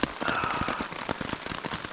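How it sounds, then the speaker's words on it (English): Rain falls steadily on a lakeside canoe camp at night, a dense patter of close drops tapping on a surface, with no talking. "the rain hasn't let up"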